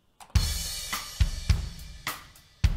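Soloed drum track playing a verse groove: punchy kick and snare hits land in a steady rhythm with bright cymbal wash between them, close and loud with no voices.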